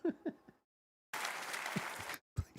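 A short, roughly one-second burst of audience applause at TwitchCon Rotterdam 2025 rises abruptly and cuts off, with a presenter's voice talking just before and after it.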